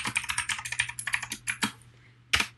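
A NetID and password typed on a computer keyboard during a login, a fast, steady run of crisp, close key taps followed by a couple of isolated keystrokes, loud and alone.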